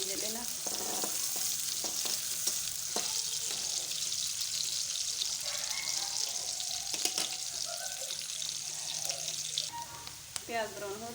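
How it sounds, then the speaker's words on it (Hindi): Onions fry in a pan with a constant, hissing sizzle while a spoon stirs and scrapes now and then, and a faint knock or two is heard near the end. "प्याज को अच्छी तरह से ब्राउन कर लेंगे और साथ साथ हिलाते जाएंगे ताकि ये जले ना।"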